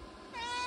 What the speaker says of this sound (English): Only dumb cats meow.